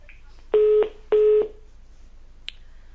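Two loud, evenly spaced beeps from a telephone line after a caller disconnects during a live Hindi TV news phone-in, followed by a faint short chirp and quiet line hiss.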